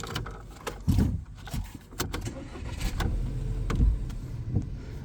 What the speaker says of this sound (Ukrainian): І зараз ми цей автомобіль вам заведемо.